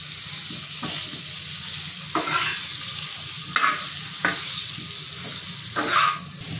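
Maggi masala is stirred into a creamy baby corn and mushroom curry in a pan, a soft steady sizzle with several distinct scraping strokes of a spoon, each a brief swish, close and without talk.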